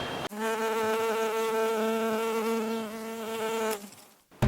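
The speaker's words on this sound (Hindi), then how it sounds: "ये मक्खी को भगाओ" A housefly buzzes close by in a steady, continuous drone with rich harmonics that holds for several seconds, then cuts off abruptly.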